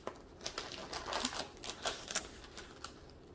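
A parcel sealed with a lot of tape being opened, with quick scratching, crinkling and tearing sounds in irregular bursts, heard close but fairly quiet.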